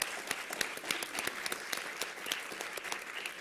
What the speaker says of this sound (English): To give them a round of applause.